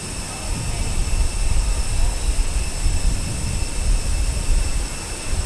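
Airbus A320 jet engines spool up for takeoff in Microsoft Flight Simulator 2020, a loud, sustained roar with deep rumble and steady high whine, continuous throughout.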